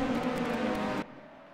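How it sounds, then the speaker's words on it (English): A 1988 CART safety car's engine drone holds steady for about a second, then cuts off abruptly, leaving a faint low background. "the revs sound like they're rising"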